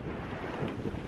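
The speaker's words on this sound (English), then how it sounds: "It's windy, but the wind is, I said it before, like having a hairdryer on you." Rushing wind on the South Downs Way in England buffets the microphone in a steady, low roar, continuous and loud with no voices.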